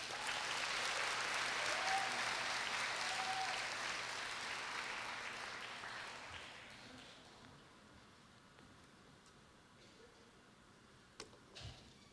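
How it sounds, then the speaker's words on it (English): Applause from a graduation ceremony audience at Korea University rises as sustained clapping, then fades gradually to quiet with a few scattered sounds at the end. "Please give him a round of applause."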